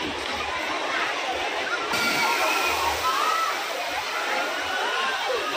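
At a children's water park, a very large bucket filled with water tips and pours down in a continuous heavy rush, a loud steady splashing cascade with crowd noise faintly mixed in.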